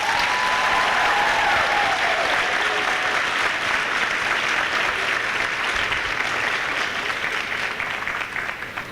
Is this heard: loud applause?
yes